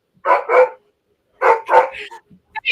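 A dog barks in two short bursts of a couple of barks each, close and loud, with a brief yip at the end.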